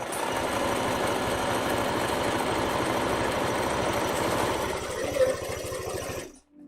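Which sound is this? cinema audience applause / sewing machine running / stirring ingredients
sewing machine running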